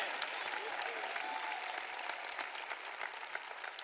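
Sustained audience applause fills a sermon hall, a dense, steady wash of many hands clapping close and loud throughout, with no speech over it.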